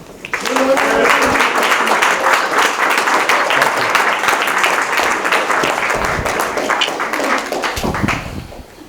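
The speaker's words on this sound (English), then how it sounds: "Please applaud violently for Toastmasters Chip Keith." Audience applause at a Toastmasters meeting, a loud sustained burst of many hands clapping that swells quickly and continues steadily for several seconds before tapering off near the end.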